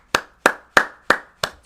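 A group claps in five sharp, evenly spaced beats, each a crisp close hit with a quick decay, with no talking over them.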